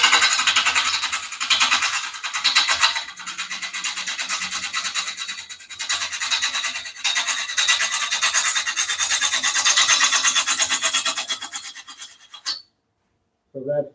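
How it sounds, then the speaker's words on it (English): Metal lathe turning an outboard part at low torque, a steady broadband grinding whir with rasping scrape running continuously for about twelve seconds before cutting off abruptly. "You can see the lathe, and I've got the torque way down"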